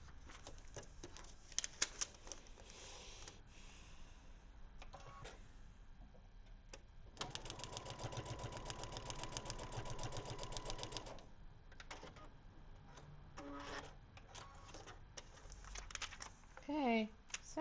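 Sewing machine stitching a paper-pieced quilt block, a quiet rapid mechanical patter in short bursts with a longer steady run in the middle, alongside soft handling noises.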